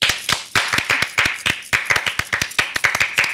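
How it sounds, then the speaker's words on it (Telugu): A woman, recovering and weak after a saline drip, claps her hands in a studio setting, a quick steady run of sharp close claps repeated over several seconds, with no talking. "చప్పట్లు కొట్టు ఒకసారి"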